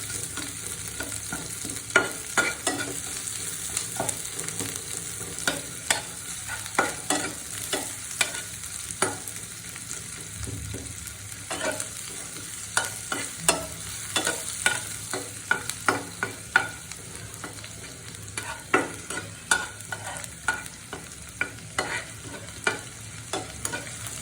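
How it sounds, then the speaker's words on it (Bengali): Onions frying in a pan for a garlic mash, a steady low sizzle beneath repeated scraping and stirring taps of a spatula against the pan, with no voices. "আমি এখন পেঁয়াজগুলোকে জাস্ট একটু ভেজে নেব, যাতে কাঁচা ভাবটা না থাকে।"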